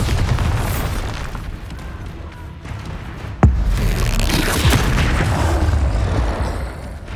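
Bombarda explosion spell cast in Hogwarts Legacy, a single sharp blast landing midway through a steady rumbling roar of magical combat, with booming bursts rolling under continuous noise.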